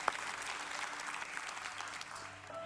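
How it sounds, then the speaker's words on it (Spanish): A church congregation at a Spanish-language service gives a short round of applause, a soft, even patter of many hands heard at a distance, fading slightly toward the end. "para ellos también un aplauso de gratitud por su apoyo espiritual"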